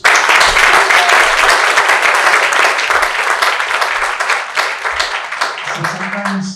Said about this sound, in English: That requires a huge round of applause.